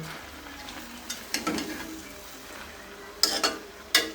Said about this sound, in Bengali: পালং শাকগুলো পালং শাক দিয়ে দিয়েছি এবার ভালো করে নেড়ে ছেড়ে মিক্স করে নিব